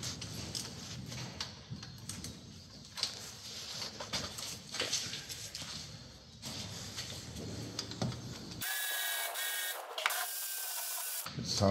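Battery ratchet undoing 13 mm cover bolts on a Skoda 1.4 TDI engine gives off a steady mechanical buzzing and clattering close by, with a sharper continuous whir near the end.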